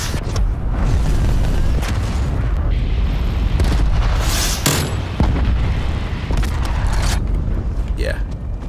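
Loud, dense blasts and rumbling booms from a cruise missile strike in a sniper-only multiplayer shooter, with sharp impacts around the middle and continuous battlefield noise throughout.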